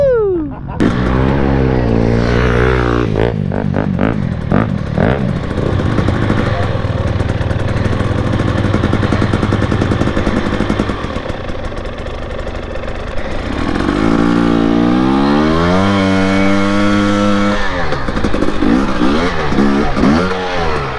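Motorcycle engine revving and pulling through gears while riding, loud and steady throughout with pitch sweeping up and down, a voice talking over it at times.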